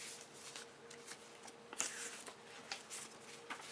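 A large paper game map from a Dreamblade starter box is unfolded close by, giving brisk crinkles and soft flapping rustles in irregular bursts.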